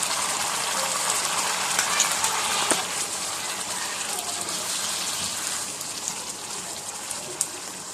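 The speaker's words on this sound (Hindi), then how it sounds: "दाल का तड़का तैयार कर रहे हैं।" Steady, dense sizzling of spices frying in hot oil for a Mughlai dal tempering, a continuous crackle with occasional louder pops, close by and without talk.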